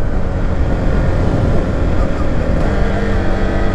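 Husqvarna Vitpilen 401 motorcycle engine at steady loud revs with a quickshifter gear change, a continuous broadband drone and a brief dip in the note around the shift, plus wind rush.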